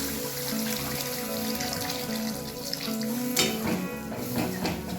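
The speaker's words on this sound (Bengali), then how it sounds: "এর মধ্যে এবার পরিমাণ মতো জলটা দিয়ে দেবো।" Water is poured into a pan of rohu fish curry with potato and pointed gourd, giving a steady splashing, bubbling flow with faint tonal hum in the background, close and continuous.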